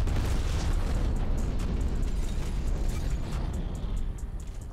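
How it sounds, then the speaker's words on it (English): A napalm strike explodes in the Black Ops Cold War video game, a loud, sustained rumbling roar with crackling bursts that slowly fades over a few seconds, with no voices over it. "that's our napalm"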